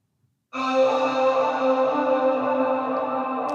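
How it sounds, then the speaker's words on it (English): A sustained synth chord for an indie pop track swells in abruptly, shimmering and swirling with echoing delay, flanging and washy reverb, holding steady to the end. "once we add that delay, flanger, and reverb"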